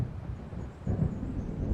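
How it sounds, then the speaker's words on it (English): Distant thunder from an approaching storm in Alan Wake rumbles low and deep, swelling partway through the short stretch with no voices. "It seems there's a storm coming."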